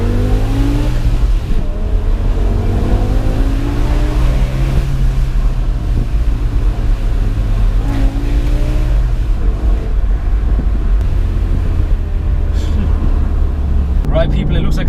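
A BMW M5 E60 accelerates hard, its engine note rising through repeated climbs in pitch, loud and close with heavy wind buffeting, and a person talks over it.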